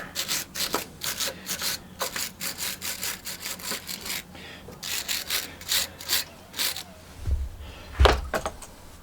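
A wire brush scrubs scrap brass in quick, irregular rasping strokes, fairly faint with short pauses between bursts and a low thump near the end.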